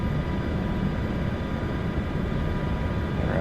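An MH-60 helicopter in a flight simulator game over a Bering Sea rescue mission gives a steady, loud rotor and engine drone, heavy in the low end and unbroken throughout, with no talking.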